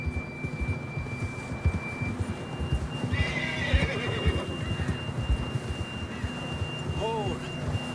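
A horse whinnies sharply near the end over a steady bed of hoofbeats and low rumbling ambience, with faint tonal chirps above, in a video game.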